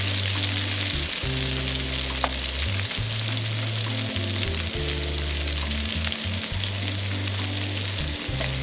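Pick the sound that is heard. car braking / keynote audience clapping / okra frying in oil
okra frying in oil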